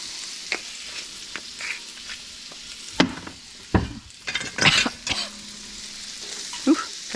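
Onions and patty pan squash fry with seasoning salt over moderate heat, a steady soft sizzle broken by several sharp scrapes and clatters of a utensil stirring and spreading them in the pan.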